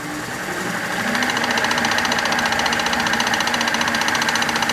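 A wood lathe spins at 1,000 RPM while a turned genie bottle is buffed. A loud, steady, close whirring drone with a fast, even pulse builds in the first second and then holds with no talking.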